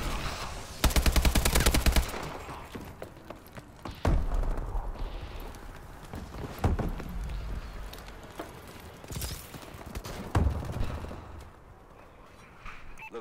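Bursts of assault rifle gunfire from Call of Duty, several sharp volleys spaced a few seconds apart, loud and close with quieter stretches of game ambience between them.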